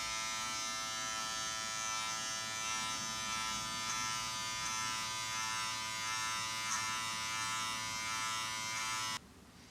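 Electric hair clippers fitted with a number 2 guard buzz steadily and close up through a self-cut fade, a constant bright motor whine holding for about nine seconds before cutting off abruptly, with no talk.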